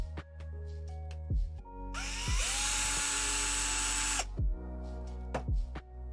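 A power screwdriver whirs in a long high-pitched burst of about two seconds while removing screws from a Tamiya Super Avante model car, with short low motor pulses and faint clicks before and after, close by.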